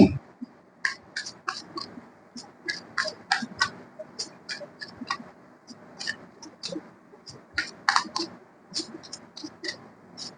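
Cards being handled and drawn from a deck during a tarot-style reading, giving a scattered series of light, crisp clicks and snaps close by, with a faint murmur in the background.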